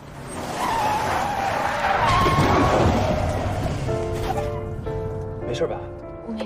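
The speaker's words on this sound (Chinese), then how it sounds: "你正走着呢，你来个急刹车干嘛呀？" A car brakes suddenly, its tires screeching and skidding loudly for a few seconds before the noise fades and music-like tones take over.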